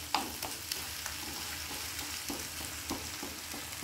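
Baingan bharta of roasted eggplant and onion being stirred in a pan, with a quiet continuous sizzle and occasional soft scrapes and taps from the spoon, close but low in level and with no voices.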